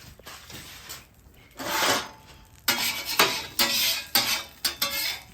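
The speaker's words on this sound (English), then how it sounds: "We're going to put these on a plate." Seared steaks set onto a plate on a flat-top griddle for steak au poivre, bringing a few clattering, scraping contacts against the plate in short bursts along with sizzle-like rasps, with no talking.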